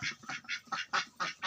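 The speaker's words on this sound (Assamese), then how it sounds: "এইকেইটা হাঁহকেইটা খুলি দিলে।" Ducks quack in quick repeated bursts, about seven close calls in a steady rhythm, as they are let out of their shed on a farm in Assam.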